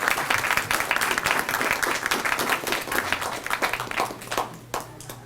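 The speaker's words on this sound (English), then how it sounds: "Give a round of applause for all our guests" An audience claps steadily for several seconds, a dense wash of applause that tapers slightly toward the end.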